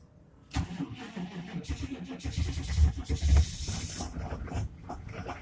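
A 1995 Chevy 2500 diesel truck cranks and catches on a cold start in freezing weather, then runs roughly and unevenly with loud surges and dips before settling into a rattling idle.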